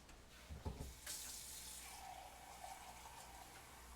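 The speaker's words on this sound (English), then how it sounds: "So I'm going to get" Water runs steadily from a kitchen tap into a sink while filling a measure for sushi rice, a continuous hiss with a louder burst near the start, no talk.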